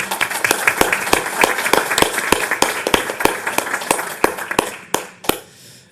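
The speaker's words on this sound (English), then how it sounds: "Please, a round of applause for Valeria." Workshop audience in Brussels applauding after a presentation: a sparse, moderately loud round of individual handclaps at a fairly even rhythm, thinning out and ending after about five seconds.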